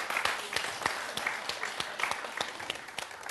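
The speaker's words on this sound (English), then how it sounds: "Clap it up, bartender." Applause for a bartender at a lively bar-style game show, a steady patter of many hands clapping at moderate distance with sharp individual claps standing out, under a busy room.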